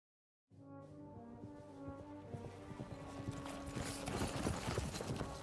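Horse hooves clip-clop in a steady rhythm that grows busier and louder, layered over a low droning background, in the video game Kingdom Come: Deliverance II.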